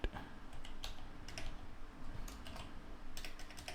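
Computer keyboard typing while configuring Cisco EtherChannel ports, heard as bursts of quick clicky keystrokes over a steady low hum, fairly close and moderately loud with no talk.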